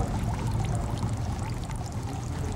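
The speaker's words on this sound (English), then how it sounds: "we pour the water down the stem so that the handle is clean for the next" Water pours steadily down the stem of a ladle during a Japanese tea ceremony, a continuous close splashing trickle with no break.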